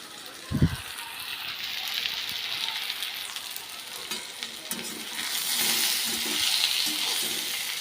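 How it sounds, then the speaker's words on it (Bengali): Chopped potato and pointed gourd fry in a pan with a steady close sizzle. A brief thump near the start and occasional stirring noises come through, and the sizzle swells louder toward the end. "আলু পটল ভাজছি, এটা ছোটো ছোটো করে কুচিয়ে আলু দিয়ে এটা ভাজছি"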